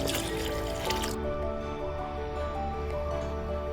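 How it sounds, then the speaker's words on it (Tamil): Fish curry with tamarind water simmering in a pot, a soft steady bubbling and faint liquid burble at low level, with a brief brighter splash or stir at the start. "ஒரு வழியா குழம்பு கொதிச்சு வந்துருச்சு."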